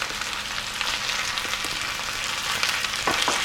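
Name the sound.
potatoes and onions frying in a pan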